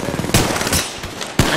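Enemy gunfire aimed at the player in Apex Legends, sharp close bursts of automatic shots in quick succession, loud and unaccompanied by talk.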